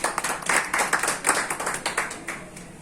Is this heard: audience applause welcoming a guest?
yes